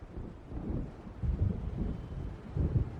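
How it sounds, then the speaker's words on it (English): Low, rolling thunder from an approaching storm in Alan Wake Remastered, rumbling in several swelling waves over a dark, windy ambience with no voices. "It seems there's a storm coming."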